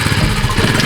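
A motorcycle engine runs close and loud in a steady, throbbing idle with rapid rhythmic pulses and no speech over it.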